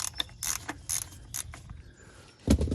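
A ratchet loosens the 13 mm oil drain plug under a Jeep Wrangler with a 2.0 turbo engine, giving a few sharp, close metallic clicks spaced irregularly, then a heavier clunk at the end.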